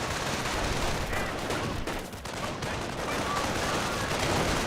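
Dense, continuous MG42 machine gun fire and battle noise from the World War II strategy game Company of Heroes roar without pause, loud and close, with a brief dip midway.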